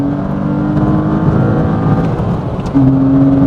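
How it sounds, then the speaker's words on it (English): A Porsche Cayman sports car engine runs loud and close, building revs and then jumping to a higher, sharper pitch near the end. "I still can't get over the sound of this engine"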